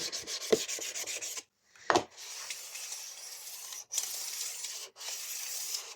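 Steady rasping strokes of a flat whetstone working along the blade of a STIHL HS 45 hedge trimmer, close and continuous with a couple of brief pauses between passes.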